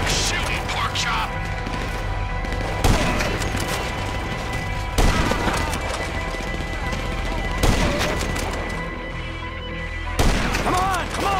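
Rapid gunfire in a GTA V shootout, with bursts of shots cracking repeatedly throughout and heavier hits every few seconds, while characters shout and argue over the shooting.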